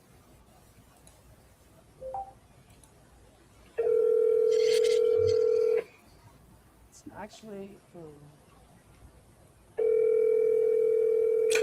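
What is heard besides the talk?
telephone dialing and ringing on a call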